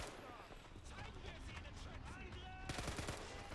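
MG42 machine gun with a drum magazine firing in the Men of War Assault Squad video game during a siege of Mont Saint-Michel, dense continuous automatic bursts mixed with other battle gunfire, loud and unbroken.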